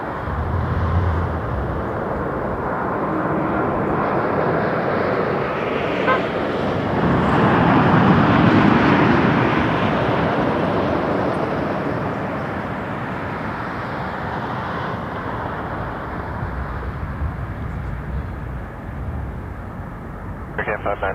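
Airliner landing at Toronto Pearson Airport at night, a broad, steady roar of jet engines that swells near the middle and then eases into a continuous rumble, fairly close.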